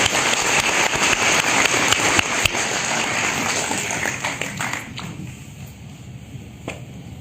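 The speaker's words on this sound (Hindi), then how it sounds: "एक बार जबरदस्त तालियां होनी चाहिए।" Audience applause in a packed motivational seminar hall, a dense wash of clapping that holds loud for several seconds, then thins and fades toward the end.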